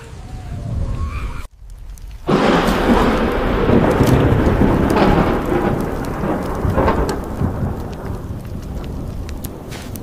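Heavy rain pours steadily after a short gap, with a deep rumble of thunder underneath, a dense continuous hiss filling the scene.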